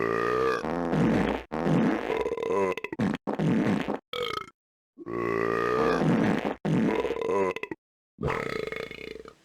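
Cartoonish fart and burp sound effects from the kart racing video game Crash Tag Team Racing, a loud, close run of bursts with short silent gaps between them.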